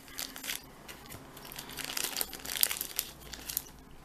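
Pokemon cards are pulled from a plastic wallet, with close, quiet crinkling and crackling in irregular bursts throughout and no talking.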